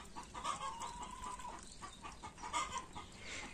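Chickens on a farm cluck continuously near a wild duck, with bursts of clucks throughout and faint background noise; no one speaks.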